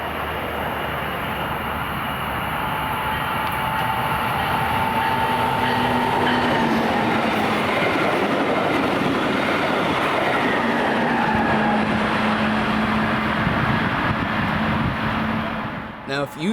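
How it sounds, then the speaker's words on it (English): A northbound Brightline passenger train passing at a road crossing in Florida: a loud, steady rumble and rush of wheels on rail lasting throughout, with a long horn note sounding over the passing cars before the noise cuts off. "I saw a northbound Brightline train at Minor Road"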